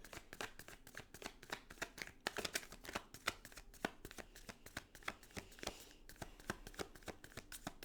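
Tarot cards shuffled by hand in a steady run of crisp riffling flicks and slaps, close and clear, repeating for several seconds without talk.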